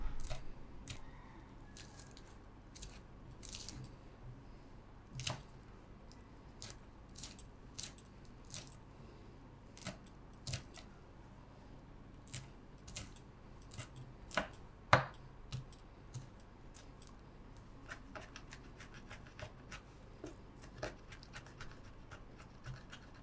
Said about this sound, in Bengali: এখানে 7টা কাঁচামরিচ কেটে নিব